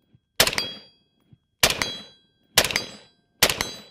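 Four sharp AR-15 rifle shots ring out close and loud, spaced roughly a second apart, each crack trailing a short decaying echo, with quiet between shots.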